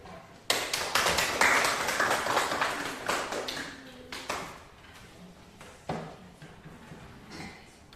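A classroom of students claps for the final presenting group, a burst of brisk applause starting abruptly, strong at first and then thinning out into scattered claps before fading.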